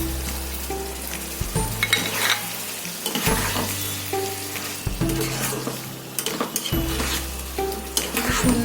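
Milk paneer being stirred with sugar in a pan, a steady scraping stir over a continuous loud sizzle and bubbling, with occasional clinks of the utensil against the pan.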